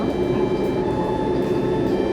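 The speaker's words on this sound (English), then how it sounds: "We're going somewhere by train today." Steady rumble of a train ride heard from inside a carriage, with continuous low-frequency noise and faint rail hum throughout, no talk.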